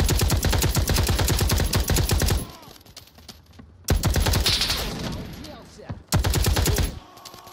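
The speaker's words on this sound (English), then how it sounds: "they're shooting at you from across the street" Rapid bursts of automatic gunfire in a video game about soldiers fighting terrorists on a street, with loud sustained volleys at the start, a pause, then another heavy burst, and faint talk in the gaps.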